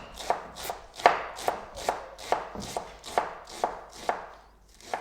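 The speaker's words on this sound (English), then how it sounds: "So the radicchio, slice in half. And we cut it nice and thin." A knife slices a halved radicchio thinly on a cutting board, about ten crisp, evenly spaced crunching strokes roughly every half second, close and clear with no talking.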